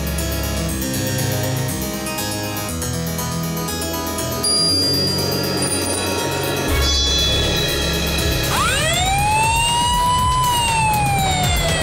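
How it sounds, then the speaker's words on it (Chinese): A wailing emergency siren rises and sweeps over a loud steady background of engine and street noise, the siren growing louder and closer in the latter half. "警报器的声音吵了，我睡不着"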